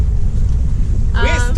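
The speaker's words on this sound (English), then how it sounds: "It's a little windy out here." Steady low wind rumble buffets a sailboat out at sea, loud and continuous throughout, with a brief voice-like tonal burst near the end.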